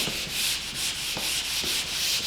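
Fiberglass sanding screen coated with carbide grit rubbed over drywall around a switch box, giving a steady, close, hissing scrape in repeated strokes with no talk.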